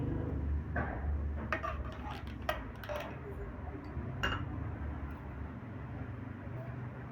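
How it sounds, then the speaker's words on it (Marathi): A spoon stirs Kitchen King masala into chole in a pot, giving scattered clinks and scrapes of metal against the vessel over a low, steady background hum, with a voice talking now and then. "किचन किंग मसाला टाकायचा आहे आणि हलवून घ्यायचं।"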